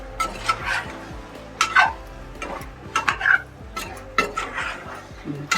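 A spoon scrapes and clinks against a pot as mixed vegetables are sautéed and stirred for pulao. The strokes come in irregular bursts over a faint sizzle.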